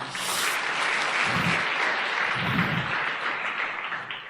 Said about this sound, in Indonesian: Tepuk tangan buat Ibu Nayunda.